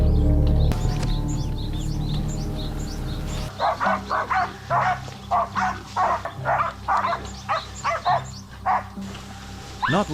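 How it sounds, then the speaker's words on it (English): Hunting hounds chasing a wild hog herd bark in a rapid series of loud, close yelps after a quieter, rumbling opening, with faint birdsong in the background. "the hounds suddenly growled and charged toward a thick patch of brush."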